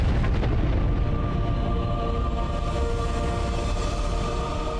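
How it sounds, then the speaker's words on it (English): A huge explosion in the video game Mass Effect 2 fills the space with a sustained, dense roar and low rumble, loud and unbroken for several seconds with no talking. "brace for explosion"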